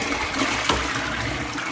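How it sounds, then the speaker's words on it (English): A toilet being flushed after an attempt to unblock it, a steady loud rush of water filling the short stretch, with a brief knock partway through. "But we're going to flush the toilet, see if it's done anything."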